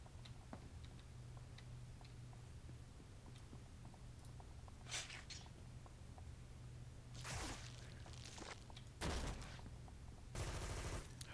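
Gunfire in the online superhero game City of Heroes comes in a few short, crackling bursts of rapid shots in the second half, faint and distant over a steady low background hum.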